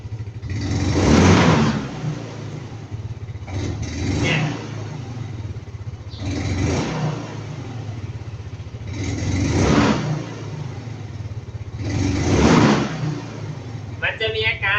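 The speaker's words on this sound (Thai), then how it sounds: "ดูนะครับบิดคันเร่ง" A four-stroke automatic motorcycle with a vacuum carburettor running on gasohol, its engine idling with five throttle twists each swelling into a rising rev and falling back, close, with someone speaking briefly at the end.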